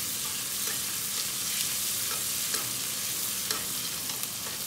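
Ginger garlic paste fries in ghee with a steady, moderately quiet sizzle and crackle, occasional stirring scrapes breaking through, with no talk over it.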